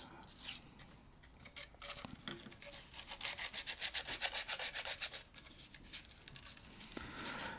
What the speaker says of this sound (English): From here, I'm just sanding it down.